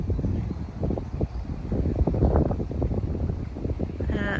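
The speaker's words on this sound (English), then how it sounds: "It's very windy." Steady wind buffeting outdoors, a continuous rumbling roar with gusty low-end thumps across the whole stretch, fairly loud and close to the microphone.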